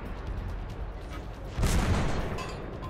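A Bat-Chatillon 25 t tank autoloader fires in a video game, a single heavy, booming shot rising out of a steady low rumble of engine and battle ambience, with no talk.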